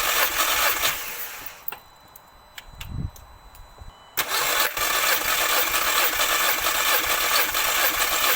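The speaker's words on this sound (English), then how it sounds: "crank the car over a few times" An Audi TT MK2 engine cranks over during a compression test, loud starter churning that cuts off, a brief low pulse and a few clicks in the quiet gap, then cranking resumes and runs steadily to the end.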